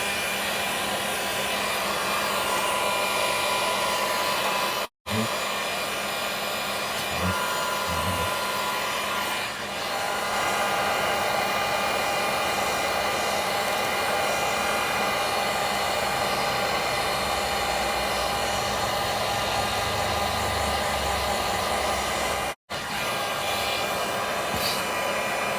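A heating tool blows with a steady, close, hissing roar while heating a water pipe fitting during a stop valve replacement in a tight spot; two very brief dropouts break the sound.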